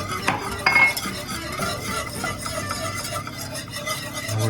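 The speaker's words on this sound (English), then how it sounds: "So we'll get the rest of the milk in here." Milk poured into a cheese soufflé base in a pot over just-under-medium heat, then stirred, with a spoon scraping and clinking against the pan in a steady, close run of sounds.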